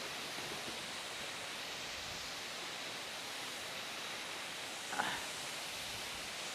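Steady rushing water from Gisgis Falls, a hidden waterfall in the Sierra Madre at Sitio Gisgis, Pangil, a dense even roar filling the whole stretch with a brief faint chirp-like sound near the end.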